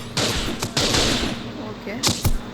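Gunfire in the mobile game MadOut2 comes in two loud, close bursts of rapid shots, with a short pause between them.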